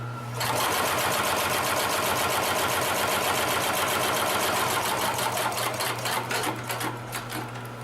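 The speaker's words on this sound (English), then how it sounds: "Now we're going to sew on to another piece here" Consew 733R-5 extremely heavy duty sewing machine stitching through material, a loud, close, steady rapid mechanical clatter running continuously for several seconds after a brief start, with no voices.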